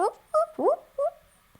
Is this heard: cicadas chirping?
no